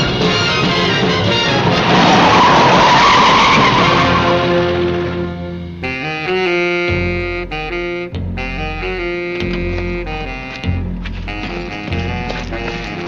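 A taxi cab brakes hard with a long, loud tire skid lasting several seconds, then gives way to music.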